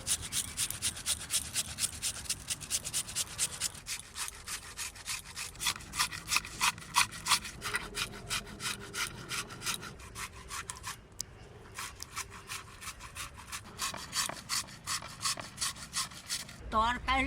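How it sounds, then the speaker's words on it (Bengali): A potato is grated by hand on a grater in a home kitchen, a rapid series of rhythmic rasping strokes, close and fairly crisp, with a short pause partway through. "আলুটা কিন্তু ঘষে নেব,"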